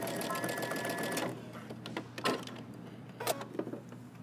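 Home sewing machine runs steady and close while stitching a Simplicity 8615 jumpsuit seam, then briefly reverses to back stitch at the end, with a few short mechanical clacks after.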